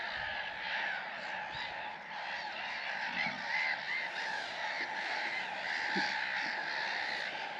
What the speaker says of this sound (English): Can't name the birds that I see. It's just nice just to sit and listen to them and watch them go about their business.